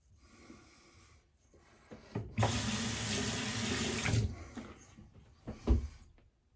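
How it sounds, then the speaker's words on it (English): Tap water runs into a sink to rinse shaving soap off a shavette razor, a steady close rush lasting about two seconds between softer splashes and handling noises. "wiping the soap off."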